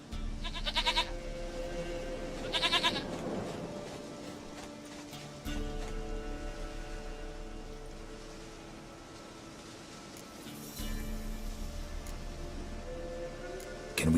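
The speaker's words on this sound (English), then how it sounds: "Goat of mine, dearest, sweetest goat." A goat in The Witcher 3 bleats twice in quick succession near the start, short nasal calls over a low in-game ambient hum. No one talks.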